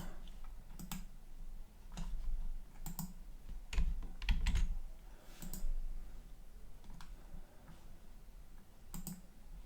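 Keys clack on a computer keyboard in irregular bursts of typing, close and moderately loud, with short pauses between runs.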